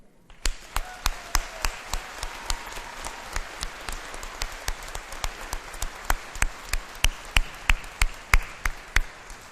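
Audience at a Truman State University winter commencement ceremony clapping, individual claps spaced regularly and distinctly over a soft background murmur, steady throughout.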